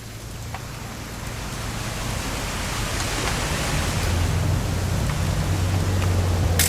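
Rain falls in What Remains of Edith Finch, a dense, even hiss of drops that slowly grows louder over a low engine-like hum, with a few sharper drip ticks and no talking.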